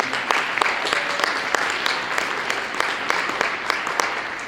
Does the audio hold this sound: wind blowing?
no